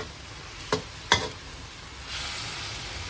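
Meat and seasonings are stir-fried in a wok over a steady low sizzle, with two sharp scraping clatters of the utensil early on, then a rising burst of frying.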